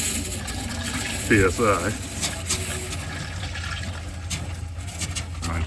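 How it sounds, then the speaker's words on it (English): Compressed air hisses steadily through the water lines of a Dynamax Isata 5 36DS RV during winterizing, pushing water out in a continuous rushing, sputtering spray while someone speaks briefly over it. "I can see it blowing water out"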